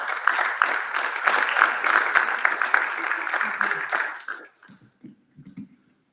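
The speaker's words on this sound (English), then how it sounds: "Round of applause." Audience applause fills a school district reorganization meeting room after an oath of office, steady clapping for about four seconds before fading out, leaving a few faint sounds and murmurs.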